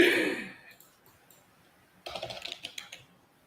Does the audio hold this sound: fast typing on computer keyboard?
yes